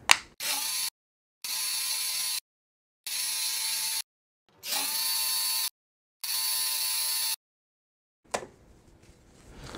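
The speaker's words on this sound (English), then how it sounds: "I do use my drill, but I put a clutch on it so that it really isn't going to damage or strip any of the screws" An electric drill with a clutch backing screws out of a Two-Rock Classic Type III amplifier chassis whines in five short, even bursts with brief silent gaps, ending with a faint clatter.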